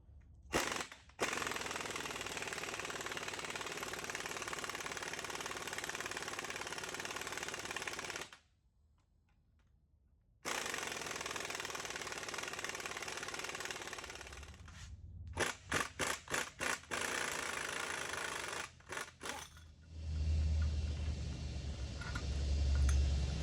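A power impact tool hammers at an engine bolt on a van during an LS swap, driving a puller to remove the harmonic balancer: loud sustained rattling bursts broken by a pause, then short staccato rattles and a clunk at the end.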